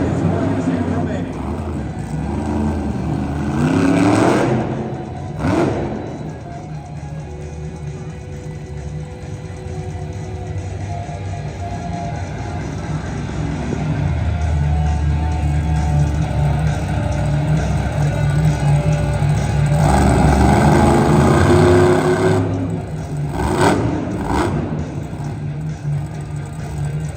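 Monster truck engines roar and rev around a dirt arena track at a Monster Jam show in Greensboro, North Carolina, a loud sustained rumble with surging peaks, heard under continuous crowd noise and arena commentary.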